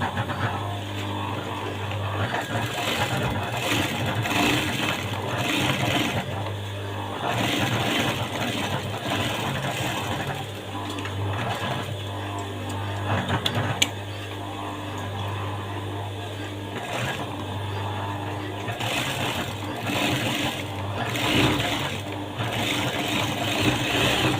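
Electric sewing machine stitching a tailored double pocket, running in repeated steady bursts with brief pauses between runs, while someone talks over the work.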